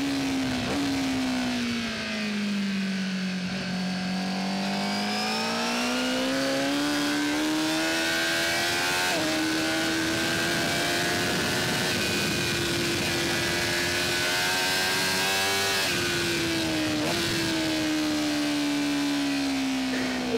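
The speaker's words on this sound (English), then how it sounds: "as soon as you come off the throttle and you've just got a little bit of throttle in the corners, the bike gurgles" A 2024 Honda Fireblade SP motorcycle at Portimao race track, its engine running steadily near the rider with a rising and falling pitch as it eases off the throttle through corners.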